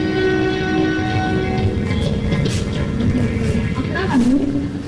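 A train stage sound effect set at Kurla railway station in a Marathi play: a continuous loud rumble carries a sustained tonal whine that wavers near the end, with a voice faintly present.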